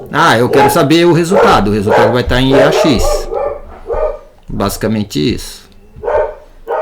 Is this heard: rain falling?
no